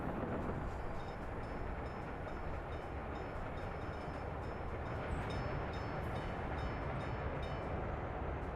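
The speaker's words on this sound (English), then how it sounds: "Train." Steady rumbling train noise in the Workers & Resources: Soviet Republic video game, a continuous rolling drone with faint clicks, loud and close throughout with no talk.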